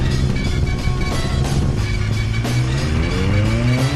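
A big V8 Mustang engine climbs loudly through the gears, its note rising in smooth sweeps, dropping at each shift and rising again toward the end, close and continuous with no voices over it.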